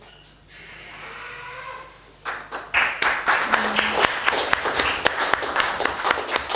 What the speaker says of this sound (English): You clap, I get to have a sip between holes.